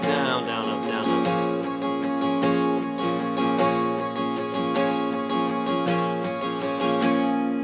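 Acoustic guitar strummed in a driving down-up pattern, steady rhythmic chord strokes filling the clip with bright, close, continuous sound and no talking.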